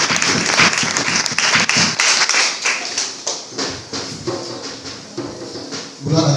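A church congregation applauds in a burst of clapping that thins out into scattered, uneven claps, with a few voices in the background.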